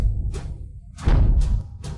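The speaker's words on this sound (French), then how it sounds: "Votre Majesté, c'est le son du tambour." A drum is struck in a palace setting, giving a deep booming thud followed by a second heavier hit, with low rumble and brief swishing noise between strikes.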